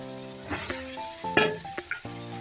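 Cauliflower and potato pieces sizzle with spices in a pan, a steady close frying hiss broken by a few sharp crackles and stirring scrapes; a faint tonal hum runs beneath.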